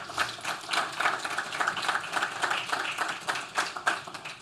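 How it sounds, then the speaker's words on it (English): An audience applauds steadily, many hands clapping in a dense, even patter that holds for several seconds. "Board of Trustee member George Heisel, if everyone could give him a round of applause"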